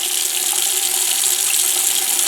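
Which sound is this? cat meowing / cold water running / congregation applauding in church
cold water running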